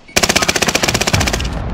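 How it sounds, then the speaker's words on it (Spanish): Rapid automatic gunfire from a battle royale video game, a dense burst of loud, evenly spaced shots running continuously for most of the moment, with no talking over it. "¡Mierda, me disparo!"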